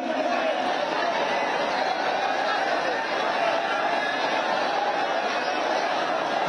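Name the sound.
large crowd chatter at a public gathering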